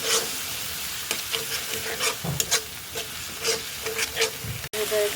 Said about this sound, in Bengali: দিয়ে আমি মশলাটা ভালো করে কষায় নেব।